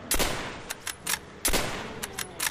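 Gunfire in the Black Ops Zombies video game: a rapid series of sharp, loud shots in two clustered bursts with short gaps between, with no talking.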